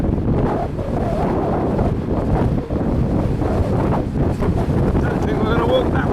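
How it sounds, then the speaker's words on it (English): Strong, gusty gale-force wind on Fuerteventura buffets the microphone with a loud, constant low roar and rushing noise that never lets up. "as you can hear. Still very windy."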